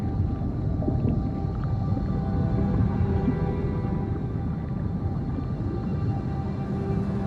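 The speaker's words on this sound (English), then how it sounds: "The blue whale." Blue whale vocalization: a steady, deep, droning low moan that holds continuously throughout, unbroken and even in level, with no other voices.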